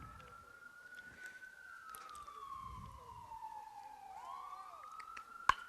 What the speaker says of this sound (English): you hear it probably, an ambulance coming down the Oak Grove Road